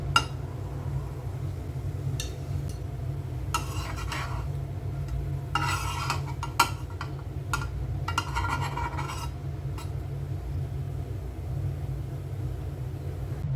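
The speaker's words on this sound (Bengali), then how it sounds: "এখন একটা চামচ দিয়ে গোল করে ছড়িয়ে দিব।" A spoon spreads thin wafer roll batter in a circle on a hot pan, making short scraping rasps in bursts over a constant low stove hum.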